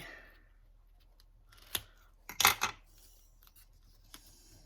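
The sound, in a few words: scissors cutting paper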